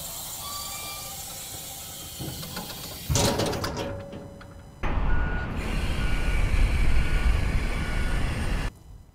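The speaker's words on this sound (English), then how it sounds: "push forward on the lever to drop the deck." A trailer deck is lowered by a hand lever over a steady idling rumble, with faint high beeping, a short hissing burst, then a louder rushing release that cuts off abruptly.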